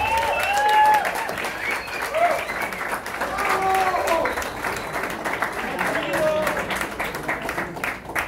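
A conference crowd at Chido Fest 2024 applauds steadily throughout, dense clapping with a few voices and cheers mixed in.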